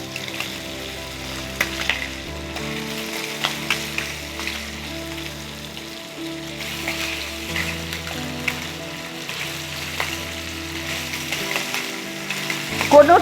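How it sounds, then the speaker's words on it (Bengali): Kajoli fish frying in hot oil, each side cooked about a minute and a half, with a steady sizzle and crackle under a soft low drone of background music, faint pops scattered throughout. "দেড় মিনিট করে দুদিক ভাজলেই হয়ে যাবে মাছটা রেডি।"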